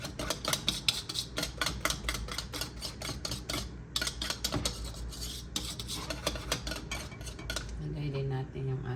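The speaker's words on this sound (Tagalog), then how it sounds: "Mix lang natin. Kailangan mix nyo very thoroughly." A utensil stirs baking powder into puto cheese batter in a bowl, scraping and clinking against the sides in a fast, steady rhythm. Nearby and continuous, it slows briefly before tapering off at the end.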